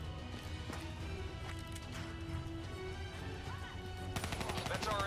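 Gunfire in the first-person shooter Call of Duty: Black Ops 3, a steady stream of shots and impacts layered under dense game music and effects, growing busier toward the end.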